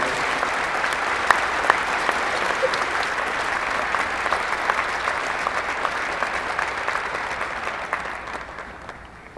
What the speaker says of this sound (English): Let's give these folks a great round of applause.